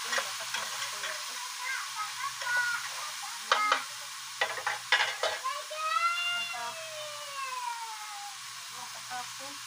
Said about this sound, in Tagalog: Halo-haloin natin saglit.